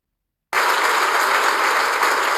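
Loud crowd applause begins suddenly after a brief silence and continues as dense, steady clapping at close range with no voices.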